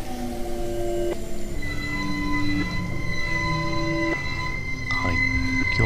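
A train in a horror video game rumbles steadily and loudly, with squealing wheel tones that step up and down in pitch throughout, and no voices.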